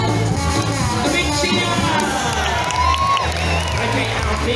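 A pantomime audience of children and adults cheering and shouting over music, with a lively continuous roar that stays loud throughout.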